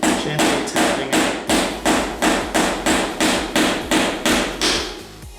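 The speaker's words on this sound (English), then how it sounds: "I've got the sheared off bolt now, and I'm just using that to go through, gently tapping it" Hammer tapping out a sheared-off bolt on a pinball playfield, about a dozen steady, evenly spaced metallic strikes in a regular rhythm, close and fairly loud with no talking.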